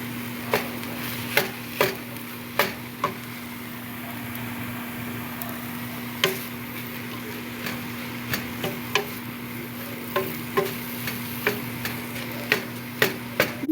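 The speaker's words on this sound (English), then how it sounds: "Dumping in our tomatoes and our carrots. Gonna stir those in." A spoon stirs tomatoes and carrots in a pot, making a run of irregular knocks and clacks against the sides. Under it runs a steady background hum from a kitchen appliance, and no one speaks.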